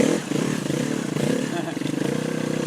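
KTM hard enduro motorcycle pulling away in first gear over a rocky road in Hawaii, its engine a steady close mid-pitched drone with slight rises, clatter underneath and no talk.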